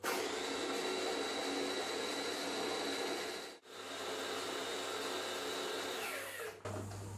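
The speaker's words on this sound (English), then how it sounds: "you can see it start to blend up nicely" A loud, steady whirring blender motor blending vegetables roars continuously, briefly dipping once midway before spinning back up, close and harsh.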